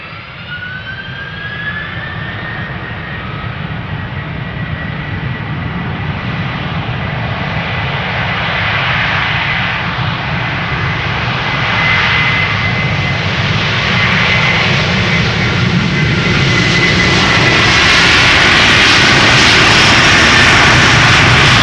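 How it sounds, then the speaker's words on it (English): Delta Air Lines Airbus A330-300, a 17-year-old airliner, rolling at Amsterdam Schiphol Airport, its jet engines roaring steadily and building louder with a rising whine toward the end, heard close and alone. "going back to Jerry's hometown of Portland, Oregon is Delta Airlines flight 179. It is an A330-300."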